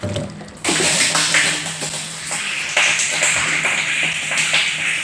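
Water gushes steadily from a tap, a continuous splashing rush that starts abruptly and runs without pause, fairly close and loud.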